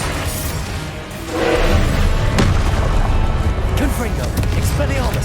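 Confringo fire spells explode in a Hogwarts Legacy boss fight, heavy booming blasts that hit near and loud after a short pause, followed by a continuous rumbling roar of combat.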